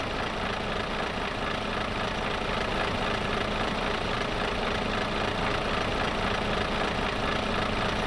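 A tractor engine idles continuously at close range, a low rumbling drone with no breaks or revving throughout.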